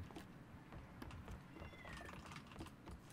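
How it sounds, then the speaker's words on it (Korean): A cat meows faintly and briefly within the quiet in-game ambience of a PUBG (Battlegrounds) squad match, with soft clicking underneath. "고양이 소리 같은데?"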